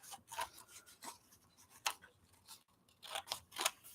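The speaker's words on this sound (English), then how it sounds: "So I've just cut a bunch of curves, and I'll cut the strip in half." Scissors snip along a paper strip in a series of close, crisp rasping cuts, several short bursts with brief pauses between them and no voices.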